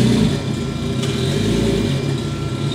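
A Toyota Supra MK4 GTSD engine running with no exhaust fitted rumbles loud and close, a deep raw roar with slight revving swells throughout, while people stand nearby.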